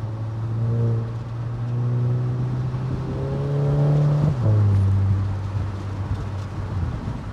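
A VW Eos 2.0 TSI's exhaust drones as the engine is revved and held, with a steady low tone that climbs, then drops back at the end; close and loud, with no talk.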